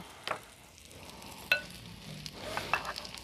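Corn nuggets frying in a pan make a soft, low crackle of oil, punctuated by a few sharp clinks and taps of a utensil against the pan at close range.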